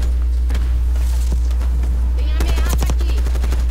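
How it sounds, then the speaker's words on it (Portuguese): Gunfire in Call of Duty Black Ops 6, a multiplayer match on the Derelict map: scattered single shots give way to rapid bursts of automatic fire near the end, with a low steady hum beneath and a voice talking over it. "Eu dei um monte de tiro no maluco."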